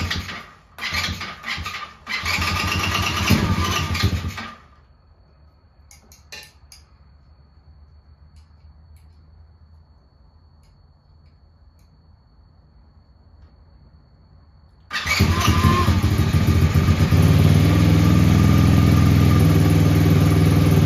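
A Tao Tao 110cc quad engine cranks in rough bursts, falls quiet for about ten seconds, then starts and runs at a loud, steady idle, close up.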